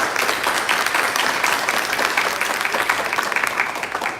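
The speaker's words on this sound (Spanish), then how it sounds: "Un aplauso para el profesor que nos visita" Sustained applause from an audience welcoming a visiting professor at a lecture, dense steady clapping filling the room for the full duration with no voices on top.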